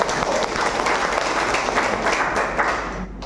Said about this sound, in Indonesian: Aplaus yang lebih meriah.